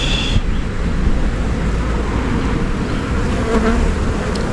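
Honey bees buzz loudly and continuously at an open beehive in an apiary, a dense close-up drone filling the whole stretch without a break.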